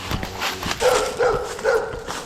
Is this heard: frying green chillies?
no